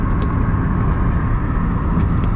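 Steady road traffic on Nairobi's Eastern Bypass, a continuous loud rumble of cars and other vehicles passing close by, with no voices.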